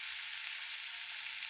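Urad dal roasting in oil over a low gas flame, giving a steady, even, fine sizzle that stays constant throughout with no talk.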